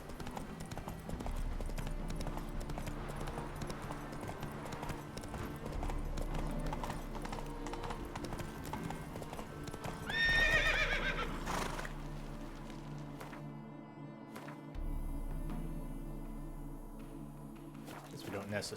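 Horse hooves clip-clop steadily in The Witcher 3, mixed with a loud neigh partway through and game music underneath, while a player talks over the action.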